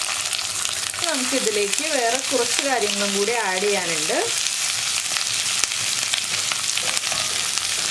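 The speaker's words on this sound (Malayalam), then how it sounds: "കടുക് പൊട്ടി കഴിയുമ്പോൾ തന്നെ നമ്മൾ കട്ട് ചെയ്ത് വെച്ചിരിക്കുന്ന സവാള ചേർക്കാം" Sliced onions frying in coconut oil with popped mustard seeds give a steady, loud sizzle with a bright hiss throughout, while someone talks over the first half.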